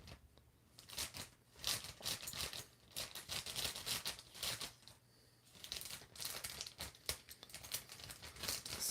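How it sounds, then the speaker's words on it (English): Scissors struggle against the plastic packaging of a Jurassic World Legacy Collection Apatosaurus toy, producing repeated bursts of crinkling, snipping and crunching in an uneven rhythm, close by and with no voices. "Scissors are just not wanting to cut."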